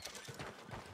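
Horse hooves clip-clop in a quick, steady rhythm in Red Dead Redemption 2, the beats close and clear across a brief stretch with a faint mechanical rattle beneath.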